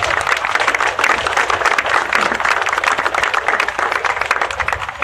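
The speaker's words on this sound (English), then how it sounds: "So let's give them a round of applause" A crowd at a justice rally claps loudly and continuously for a family being welcomed, thick close-up applause holding steady throughout.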